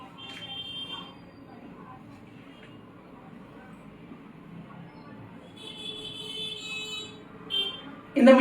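An induction cooktop gives short electronic beeps as it switches on, a few high tones sounding faintly over a quiet kitchen hum; a person talks throughout.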